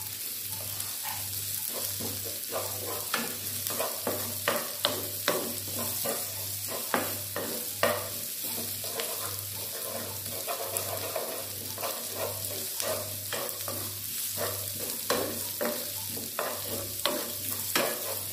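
Red chili and terasi shrimp paste fry with wilted garlic in a pan for Balinese tumis kangkung, a steady close sizzle with many quick scraping stirs and clinks over a low, regularly pulsing hum, and no talking.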